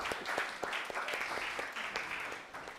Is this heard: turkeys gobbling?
no